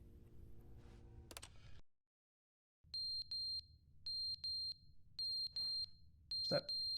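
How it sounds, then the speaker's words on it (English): A smoke alarm's low-battery chirp in The Stanley Parable: Ultra Deluxe: short, bright electronic beeps in pairs, repeating steadily over a low hum, with a brief louder burst near the end. "it's the fire alarm battery"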